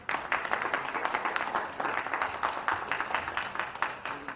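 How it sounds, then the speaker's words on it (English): Audience applause at an IT and infrastructure conference event in Bihar, a steady, moderately loud patter of many hands clapping throughout, slightly distant with no talking. "Can we have a huge round of applause for sir?"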